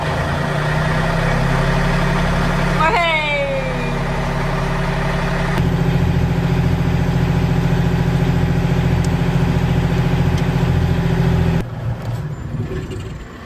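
A Yanmar diesel engine on a catamaran cranks and catches with a descending whine, then settles into a steady, loud, chugging idle that shifts pitch slightly as it runs.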